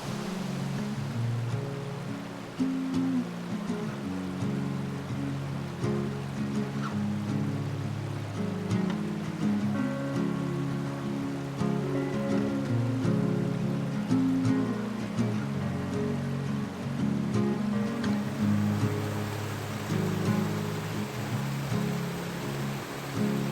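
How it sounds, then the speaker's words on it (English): Steady watery rushing and babbling of a tiny trout stream in North Georgia in winter, continuous and fairly close, with no voices. "Out of this tiny little stream."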